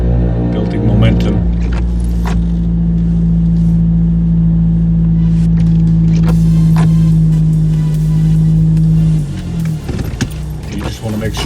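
A Suzuki Jimny pushes through deep, heavy snow, its engine a loud, steady, close drone that holds for several seconds before easing off amid crunching and rattling.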